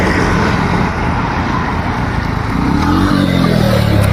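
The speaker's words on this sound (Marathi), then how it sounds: "तो माझा भाऊ गाडी चालवत आणत आहे." A vehicle engine drones loud and close in a steady low rumble as the vehicle is driven up, with no voices over it.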